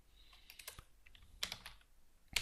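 Close, quiet clatter of code being typed on a computer keyboard, a quick uneven run of keystrokes with a couple of louder presses standing out.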